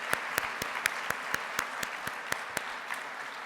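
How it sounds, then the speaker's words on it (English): Audience at a hospitality association's annual convention awards evening clapping for an award recipient, a short, fairly thin burst of rhythmic applause with distinct individual claps, no talking. "might as well give him a hand of applause because he did a good job"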